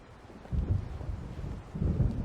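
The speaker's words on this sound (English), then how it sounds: "It seems there's a storm coming." Low, rumbling thunder in the rain-swept night of Alan Wake, two soft rolling swells under a steady wash of wind and storm noise, fairly distant and subdued.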